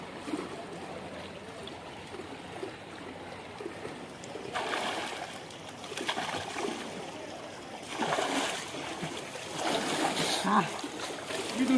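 Friends splash into swimming pool water in several bursts of churning and splattering over steady poolside ambience, with voices talking and calling throughout.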